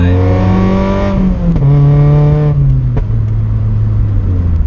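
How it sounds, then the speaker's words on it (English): A Mazda NC Miata accelerates hard toward 55 mph, its engine note climbing steadily through the gears with brief dips at each shift, loud and close, heard from inside the car. "get the car to about 55 miles an hour"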